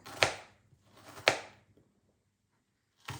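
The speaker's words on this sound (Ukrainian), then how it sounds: "І отак ріжемо далі нашу цибульку." A knife chops onion on a board in three sharp, close strikes spaced about a second apart, each with a short rustling tail and near silence between them.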